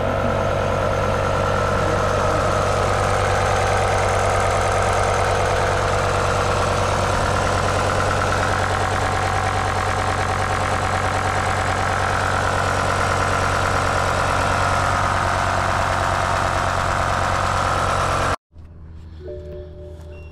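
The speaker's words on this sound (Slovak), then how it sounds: "motor poriadne nejde tak, jak by mal, lebo má misfire, takže mu vynecháva jeden valec." A BMW M5 engine idling with a misfire that drops one cylinder, a steady loud close rumble with an uneven knocking pulse, which cuts off abruptly near the end.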